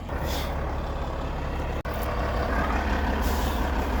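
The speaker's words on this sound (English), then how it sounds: "Now he's bringing in the massive load here. Way too big a truck for our yard." A large dump truck hauls a massive load of fill into a small residential yard at a garage build site, its engine rumbling loud and steady throughout, with a brief hiss of air brakes and a short gap midway.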